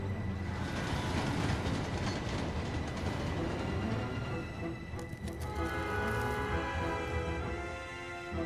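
A steam train rumbles steadily along the rails with a dense, low mechanical roar and faint rhythmic clatter, fairly distant and continuous.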